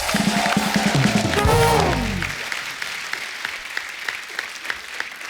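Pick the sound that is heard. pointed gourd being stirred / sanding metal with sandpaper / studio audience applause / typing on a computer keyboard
studio audience applause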